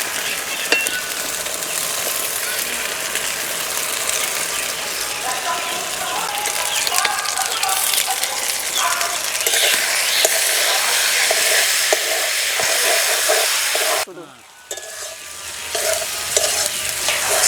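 Fried lata fish pieces go into a spice paste frying in a pan for a curry, with a dense close sizzle and constant stirring scrapes, then a sudden drop to quieter simmering near the end.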